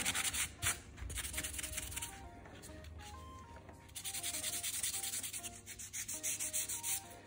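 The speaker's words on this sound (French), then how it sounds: "quand vous limez des longueurs aussi grandes que ça, c'est de poser l'ongle à plat" A nail file rasps back and forth across long chrome-effect nail art nails held flat, giving quick rhythmic scratchy strokes up close, in short bursts with brief pauses and no voices.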